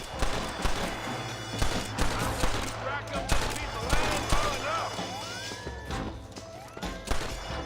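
Repeated gunshots ring out in a Red Dead Redemption shootout, sharp cracks fired in irregular bursts over a low steady hum, with scattered shouting voices mixed into the firefight.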